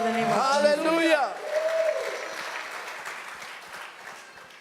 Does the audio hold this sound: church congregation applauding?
yes